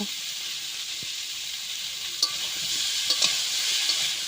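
Cauliflower frying in a pan with spice paste, ginger-garlic paste and dried chilli, giving a steady soft sizzle with a few sharp spoon scrapes and clicks as it gets stirred.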